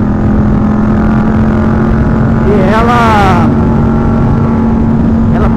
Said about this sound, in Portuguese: o som, o ronco dessa moto, né? É a Yamaha MT-07